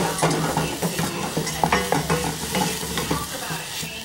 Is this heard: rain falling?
no